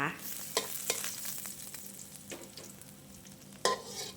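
Garlic stir-frying in oil over medium heat for a ridge gourd and egg dish, a soft, continuous sizzle with occasional sharp spatula scrapes and taps in the pan, no voices.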